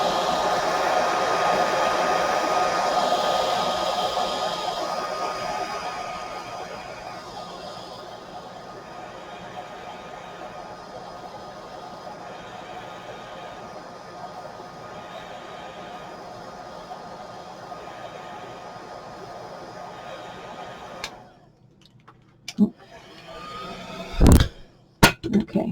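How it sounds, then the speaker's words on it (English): A heat gun with hot and cool settings, used to cure a polymer clay miniature chair, blows steadily and close for about twenty seconds, dropping slightly in loudness midway, then cuts off, followed by a few sharp knocks. "my heat gun has a hot and then a cool button, and you just turn the cool button on"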